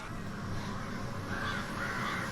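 Crows caw in a Doctor Who episode, harsh calls rising over a steady, dense background of scene noise and music, moderately loud throughout the short stretch.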